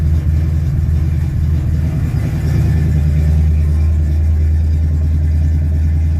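A loud, rough old car engine with no muffler rumbles steadily at idle, a deep throbbing drone, close and continuous throughout.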